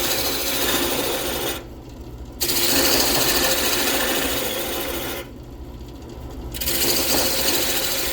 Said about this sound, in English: old belt sandpaper works really well on the lathe for sanding